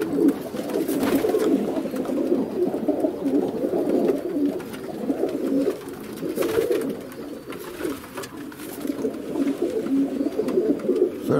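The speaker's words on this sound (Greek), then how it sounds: "Αυτά λοιπόν τα περιστέρια που είδαμε, τώρα η δεύτερη ομάδα." A loft of older, larger racing pigeons coos continuously, overlapping low rolling calls from several birds nearby with a steady murmur throughout and occasional rustles.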